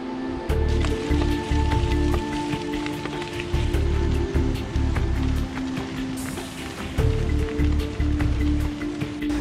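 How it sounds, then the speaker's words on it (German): Rain starts again on a 2,700-metre mountain pass in the western Caucasus, a steady close patter falling over a low rushing noise with no talk, likely with a stream nearby. "aber jetzt fängt es langsam wieder an. Also volle Regenmontur."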